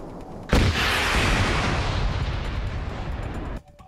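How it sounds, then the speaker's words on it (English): Gunfire in Arma 3 erupts abruptly as one loud, sharp onset followed by a roaring, dense blast-like burst of about three seconds that cuts off suddenly, then near silence. "The riding player can shoot their gun while on the back of another player."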